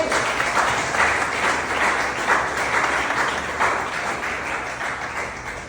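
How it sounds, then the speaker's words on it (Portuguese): A church congregation claps together in praise, a steady wash of applause rising and falling in waves, moderately loud and sustained, with no one speaking over it. "Você pode aplaudir o nome do Senhor?"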